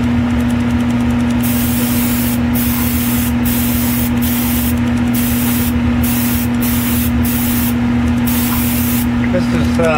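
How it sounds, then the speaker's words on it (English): A spray gun lays 2K clear coat on a 1971 Cuda, a loud continuous hiss with a steady compressor hum underneath and the spray cutting in and out in short bursts. "Open the valve up just a little bit to give it one more coat."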